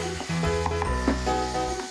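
Chopped tomatoes sautéing in a pan for aloo tomato curry, a short burst of sizzling and stirring layered over steady background music.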